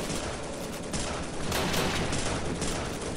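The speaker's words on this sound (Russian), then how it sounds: "Отсюда еще кто-то стреляет." Dense gunfire from the war game В Тылу Врага crackles in rapid overlapping bursts, loud and continuous like a fusillade, with no speech over it.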